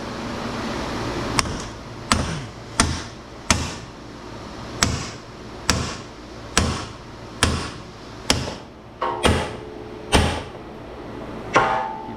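Repeated sharp metallic hammer blows strike an I-beam while a three-phase solar charge controller is being scrapped, about fifteen evenly spaced bangs a second or so apart, each ringing briefly, close and loud with no talking.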